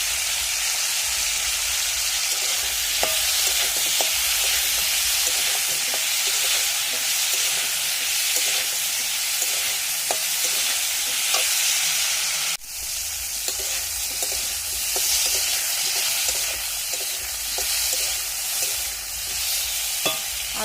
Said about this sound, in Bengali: আলুটা কাঁচকলাটা ভালো করে ভাজা হয়ে গেছে।